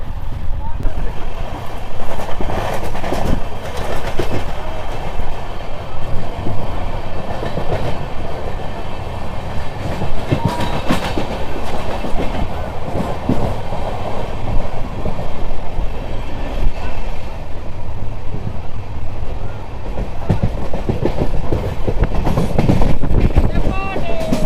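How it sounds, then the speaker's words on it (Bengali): An LHB-coach express train runs through Rajgram railway station, its steady rolling rumble and rail clatter continuous for the whole stretch, with voices talking faintly over the noise. "আমাদের ট্রেন ক্রস করছে এখন রাজগ্রাম রেলওয়ে স্টেশন"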